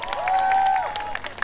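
Crowd applause and light cheering on an outdoor festival lawn after a Sokcho lion dance performance, a loud, steady wash of clapping with a whistling tone and a voice over the PA rising briefly through it.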